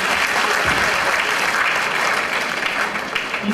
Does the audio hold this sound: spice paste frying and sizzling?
no